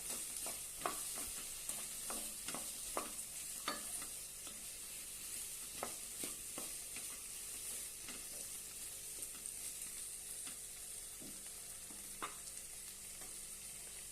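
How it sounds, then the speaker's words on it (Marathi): Okra stir-fried in a pan with cooked potatoes for bhindi aloo sabji, a quiet, even sizzle punctuated by regular scraping and tapping strokes of the spatula throughout, no talk. "आता यामध्ये भेंडी घालूया छानपैकी परतून घेऊया"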